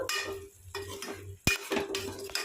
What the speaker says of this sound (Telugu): వేసేసి అంతా ఒకసారి బాగా కలపాలండి